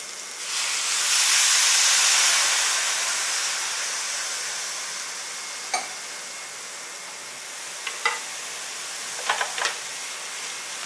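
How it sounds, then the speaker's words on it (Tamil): Water sprinkled into a pan of finely chopped banana flower sautéing for a Tamil kola urundai snack sets off a loud, broad steaming hiss that slowly fades, followed by a few small pops and sizzle crackles near the end, with no talking. "இப்போ இதில் லேசாக கொஞ்சம் தண்ணி தெளிப்போம்"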